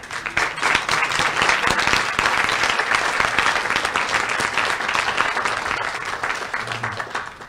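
Audience at a professional order's annual general assembly giving steady, loud applause, a continuous dense clatter of many hands that holds for several seconds before easing off.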